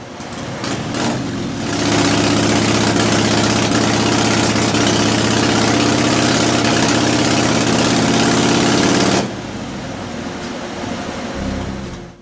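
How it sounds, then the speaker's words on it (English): A motorcycle engine with an S&S carburetor jetted too rich idles with a deep, dull, blubbery exhaust note, steady and loud for most of the clip before dropping to a softer rumble. "The dull sound of the exhaust is often described as blubbery."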